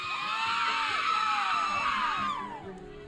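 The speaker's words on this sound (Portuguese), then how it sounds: "Aí, essa é a torcida animada do Newcastle." Newcastle supporters roar and whoop at an amateur football match in the Chapadinha championship, a dense crowd of cheering voices swelling continuously and easing off slightly near the end.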